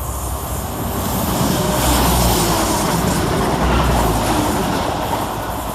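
A pair of West Midlands Railway class 175 diesel units pass through Smethwick Rolfe Street station, a loud steady low rumble and roar with swelling engine drone and wheel noise, no voices.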